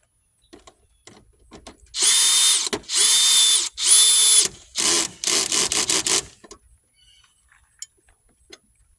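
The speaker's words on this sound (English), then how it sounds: "for light work like this, I prefer a drill," A power drill drives screws in three long whirring bursts, then several quick short pulses, close and loud, followed by quiet handling sounds.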